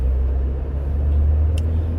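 Car interior on the move, a steady low engine and road rumble droning close and even throughout, with a brief faint high click partway through.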